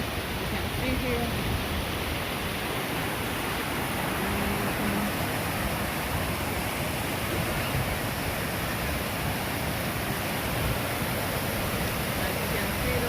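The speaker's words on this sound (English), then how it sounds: "This is from the top, watching this fall." Waterfall heard from the top of the drop, one of a chain of 21 waterfalls, a loud unbroken roar of rushing water filling the whole scene with no pause.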